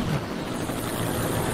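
A cartoon helicopter flies steadily overhead, its broad rotor and engine roar loud and continuous with no voices over it.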